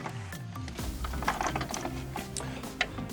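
A Torx driver with a T15 bit backs out the screws holding a Jeep Wrangler headlight in its bezel, giving a quiet, steady mechanical ratcheting and clicking against a tonal background.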